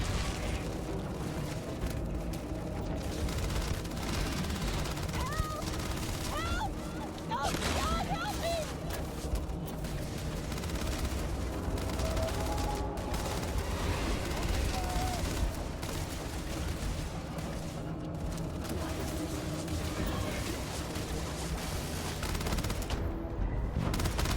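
Rapid bursts of automatic gunfire and booming impacts fill a firefight in the video game Starfield, dense and continuous, while someone talks over the action.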